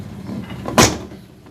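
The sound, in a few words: closing a pressure cooker lid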